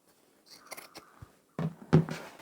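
Scissors snipping the sewn fabric corners of a braided-rope-handled market bag, a few close crisp cuts, quiet at first and then two louder snips.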